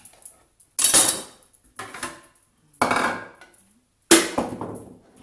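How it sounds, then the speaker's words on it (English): Four distinct, loud knife chops on a cutting board while vegetables are roughly cut for a juice, each a sharp woody thud with clatter, spaced about a second apart with silence between and no talking. "So we're just going to chop these up and get going."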